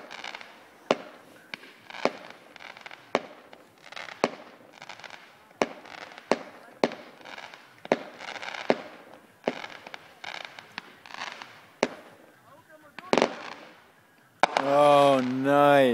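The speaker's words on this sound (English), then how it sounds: "Solid 10 plus minutes straight of fireworks." Fireworks at a cottage display burst in a long run of sharp, loud explosions, some close together, with a few voices chatting quietly between the bangs and a louder, denser burst near the end.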